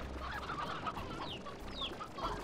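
Roosters in the game Slime Rancher cluck repeatedly over a steady low background hum, with a few higher chirping calls breaking through now and then.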